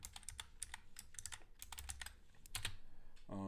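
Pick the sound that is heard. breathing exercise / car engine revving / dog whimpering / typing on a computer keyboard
typing on a computer keyboard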